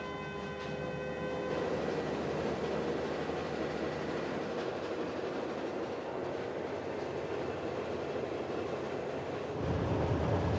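The Australind passenger train in Western Australia rumbles along steadily, a continuous loud rolling roar with faint tonal hums early on, swelling slightly louder near the end.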